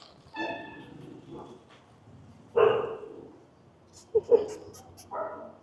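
Puppies from a litter of young dogs yipping in short, scattered bursts, one louder yelp midway and a cluster of sharp barks near the end, with people talking throughout.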